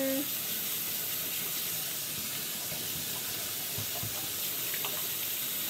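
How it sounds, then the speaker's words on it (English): Water gushes steadily from a bathroom sink tap in a continuous, close, even hiss that lasts throughout with no other sound on top. "Turn on the water."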